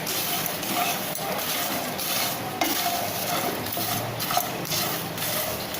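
Fox nuts (makhana) stirred with black pepper and red chilli powder in ghee, a dense dry rustle and light sizzle with spoon scrapes against the pan at irregular intervals.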